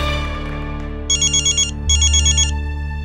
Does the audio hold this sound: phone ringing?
yes